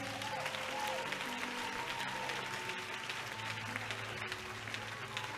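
A church congregation clapping during a sermon, steady rhythmic applause heard over a sustained low musical drone, somewhat distant and even in level throughout.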